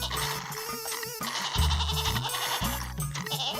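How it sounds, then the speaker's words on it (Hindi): A goat bleats repeatedly while it is milked with its hind legs tied, in a Hindi comedy cartoon story, and loud music and other sounds partly bury the calls. "जग्गू बकरी के गले से रस्सी निकालकर उसके पीछे के पैर बांध देता है"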